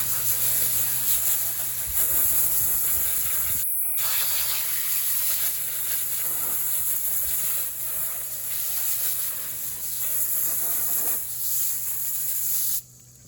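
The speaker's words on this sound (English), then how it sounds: "we'll just spray these down now. Got this hose." A garden hose sprays water over muddy motocross boots, an Alpinestars Tech 10 and an AXO Dart Pro, giving a close, steady, loud hiss with a brief cutoff and a sudden stop at the end.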